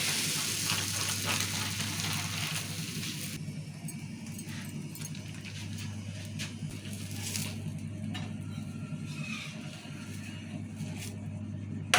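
Chana dal bhakshalu, wheat flour flatbread, frying in oil on a hot pan, with a soft continuous sizzle over a low steady hum and occasional light clinks.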